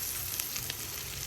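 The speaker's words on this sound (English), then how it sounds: "I'm just frying up my little shallots to have as crispy onions on top of the croutons" Shallots frying in a pan for crispy onions, a dense continuous sizzle with small crackling pops, close and steady, no voices.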